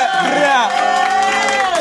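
A lecture audience cheers and whoops loudly, with several overlapping voices rising and falling close by in a brief burst of crowd noise.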